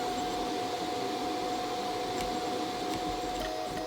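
A 3D printer runs while printing a tiny dodgem car model, giving off a steady, even whirring hum with a faint constant tone, unbroken and close for the whole stretch.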